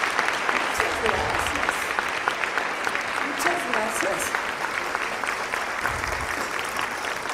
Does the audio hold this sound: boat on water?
no